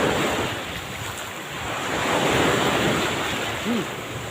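Sea waves wash continuously against the shore, a broad steady surge mixed with wind rumbling on the microphone, with no voices over it.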